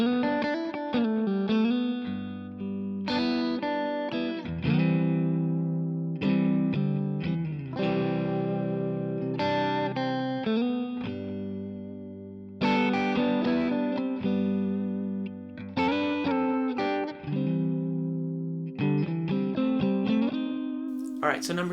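Electric guitar through a Kemper 2-Stone BD profile with a Klon pedal, playing a clean but slightly saturated, harmonically rich tone: strummed chords and picked notes ringing in phrases with short pauses, full and close.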